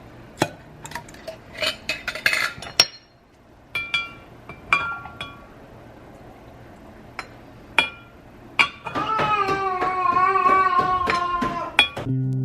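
A ladle clinks against a metal KitchenAid mixer bowl while cream is skimmed off cow's milk, giving scattered sharp clinks and taps near at hand, then a louder sustained clatter toward the end.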